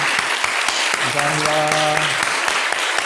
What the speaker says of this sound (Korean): 한번 자리에서 일어나 주시면 저희가 박수로 환영하겠습니다.